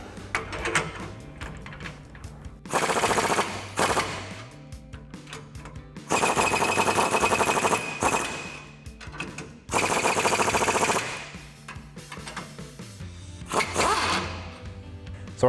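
A power tool drives nuts tight onto bolts while a ReadyLIFT 3.5-inch SST suspension lift kit goes onto a 2021-2023 Ford F-150, giving four loud, rattling bursts of a few seconds each with quieter gaps between.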